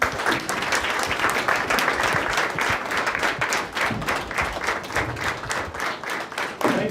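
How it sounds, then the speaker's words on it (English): A school audience claps for arriving guests at a school play, a dense, steady round of applause that holds for about seven seconds with no gaps. "Let's all clap for our guests."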